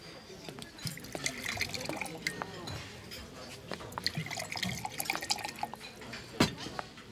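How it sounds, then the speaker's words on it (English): Wine pours into a glass, close-up trickling and dripping with a few light glass clinks, soft and intermittent beneath quiet conversation. "Can I pour you a glass of wine?"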